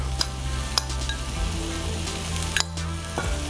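Pre-washed basmati rice sizzles and crackles in a small saute pan over medium-high heat, a close, steady frying hiss with a few sharp pops and stirring scrapes; no talking.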